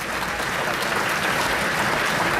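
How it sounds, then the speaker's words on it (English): Loud, dense applause fills a hall at the launch of the Husqvarna 701 Vitpilen and Svartpilen 701 concept motorcycles, unbroken and close for the whole stretch. "Yes, ladies and gentlemen, a big hand of applause."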